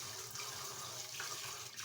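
Water runs steadily from a tap while rice is washed, a close continuous splashing rush with no pauses.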